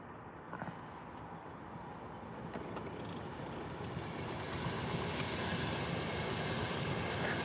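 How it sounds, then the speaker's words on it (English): A Pendolino express train approaches on the slow tracks of a railway line, its broad rushing roar building steadily and growing louder toward the end, with no voices. "Another Pendolino on the wrong track."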